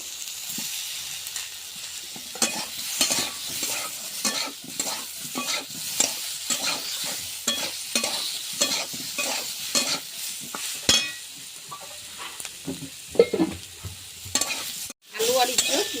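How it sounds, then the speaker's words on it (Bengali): Potatoes and young jackfruit sizzle in hot oil in a pan while a spoon stirs them in steady, repeated scraping strokes, with a constant frying hiss underneath and no talking. "আলু দিয়ে ভালো করে ভেজে নেব।"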